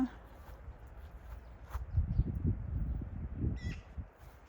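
A bird calls faintly from some distance amid outdoor ambience, with low rustling or footstep-like noise nearby.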